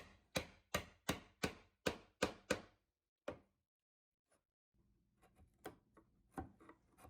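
A wood chisel driven across the grain while chopping a mortise gives seven sharp, evenly spaced mallet knocks, one more strike after a pause, then quieter, irregular taps and scraping at close range.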